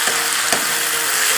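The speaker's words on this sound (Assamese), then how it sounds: "দাইল ভাজিছোঁ" Soaked lentils frying in a pan, a dense continuous close sizzle with a soft stirring knock partway through.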